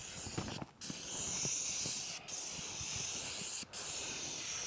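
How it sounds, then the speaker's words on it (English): Wood stain sprayed onto a wooden fence, a steady close hiss of the sprayer that cuts out briefly three times between passes. "if I want to make sure I'm getting it inside, just spray it just like that"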